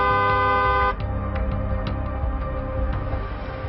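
Loud vehicle horn blares steadily for about a second as a caution sound effect, then gives way to continuous traffic rumble with several short honks scattered through, no voices.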